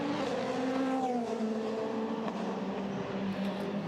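A race car blasts back into the race, its engine roaring loud and close, pitch sweeping as it accelerates and then holding a steady drone.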